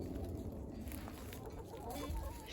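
Hens in a mixed backyard flock, including a Marans and a barnyard mix, cluck softly and steadily against a constant low outdoor hum, with no clear talking.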